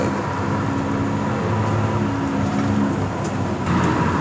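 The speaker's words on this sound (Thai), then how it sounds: "มีรถเมล์ด้วย" City bus in street traffic, a steady loud engine rumble and road noise that runs without a break throughout, with no speech.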